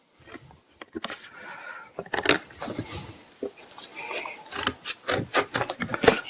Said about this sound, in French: Donc je découpe mes petits carrés de carton.